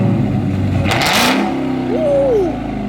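Dodge Charger Redeye with its mid muffler deleted revving hard, a loud rising roar with a supercharger whine climbing and falling across two quick blips, heard close and alone.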